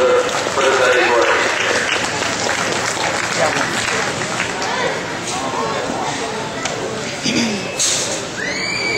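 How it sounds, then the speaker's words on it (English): Crowd applause for kids at the Grand Drive in Potter County, a broad wash of clapping that swells at the start and tapers off, with voices and other crowd noise mixed in. "Give these kids a big round of applause up here"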